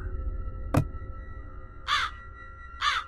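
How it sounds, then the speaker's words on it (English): Crows cawing in the video game My Inner Demon, a street scene with the birds gathered on street lamps: a sharp click, then two harsh, separate caws about a second apart over a steady low ambient hum. "A lot of crows gathered on the street lamps."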